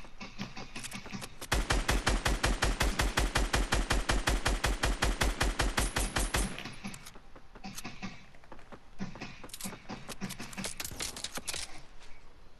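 Game-style gunfire: a long, rapid machine-gun burst of evenly spaced loud shots for about five seconds, then a looser, quieter run of scattered shots, with no talk over it.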